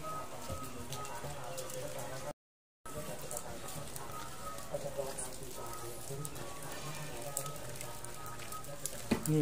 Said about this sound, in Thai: โอ้ตัวนี้น้ำหยดมาจากข้างบนเป็นหน้าผาครับ